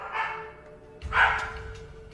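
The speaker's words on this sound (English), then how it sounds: "My dog's playing." A dog barks while playing indoors, giving two or three rough, mid-distance woofs over a steady background hum.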